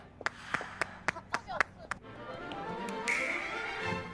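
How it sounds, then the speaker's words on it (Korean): A small group claps in a quick burst, about eight sharp separate claps over two seconds during a celebratory reaction moment, followed by a murmur of voices and background noise. "박수!"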